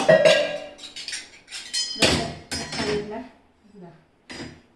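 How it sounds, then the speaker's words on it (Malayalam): Steel dishes and small spoons being set into the rack of an IFB 16-place-setting dishwasher, giving close metallic clinks, clatters and knocks in several bursts separated by short pauses. "പാത്രങ്ങൾ ഇവിടെ കുറേ ഒതുക്കി വെക്കാവുന്നതാണ്"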